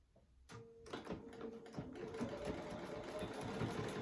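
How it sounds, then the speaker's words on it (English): A sewing machine runs steadily, stitching a quarter-inch seam on a crochet needle case after a brief quiet start, its motor hum and rapid needle rhythm close and continuous. "we're going to be sewing 1/4 inch"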